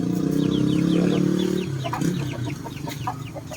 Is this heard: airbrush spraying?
no